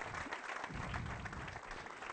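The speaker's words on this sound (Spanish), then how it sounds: "Les quería pedir un aplauso" An audience applauds to welcome a speaker onto the stage at a talk event, with steady, dense clapping that fills the room without a break.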